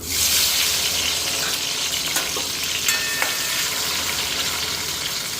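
Onion and tomato fry in a pan with a loud, dense hiss of hot oil, a few stirring clicks breaking through the steady sizzle.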